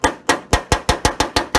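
Sharp metallic hammer strikes on a punch tapping down high spots on the steel body of a 1966 Dodge Dart GT, about eight evenly spaced close, loud taps with no talk.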